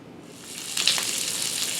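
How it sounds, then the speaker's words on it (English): Chicken sizzles in a hot skillet of melted butter and canola oil, a broad hissing fry that swells louder partway through and then holds steady. "we'll start frying up our chicken."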